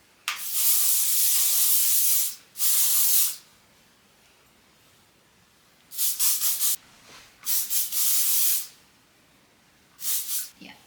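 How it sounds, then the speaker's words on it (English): Major Moment hairspray is sprayed onto hair in about five sharp hissing bursts of uneven length, close and loud, with quiet gaps between them. "This is the Major Moment hairspray."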